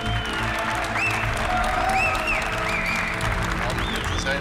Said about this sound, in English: A big round of applause for our boss,